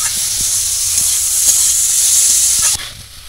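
Lakshmi prawns fry in hot oil with a loud, steady sizzle and hiss and a few faint stirring taps underneath, until the sizzling abruptly drops away near the end.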